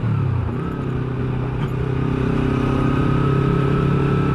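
A steady engine drone, likely from a motorcycle, runs close and loud on a Jakarta street, with a slight rise in pitch and a brief clatter partway through.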